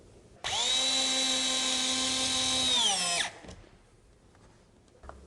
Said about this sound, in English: pre-drill the hole, screw the screw into the subfloor